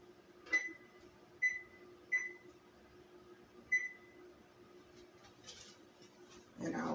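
Kitchen oven timer being set, giving four short, clear electronic beeps spaced about a second apart, quiet and close, followed by a soft clunk at the end.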